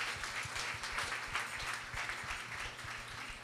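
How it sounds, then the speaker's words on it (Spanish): Church congregation applauding during an anniversary service, a continuous even patter of many hands heard fairly softly from a distance, with a low rhythmic thump running underneath. "Denle un aplauso al Señor"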